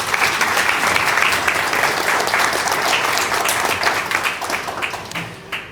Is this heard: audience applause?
yes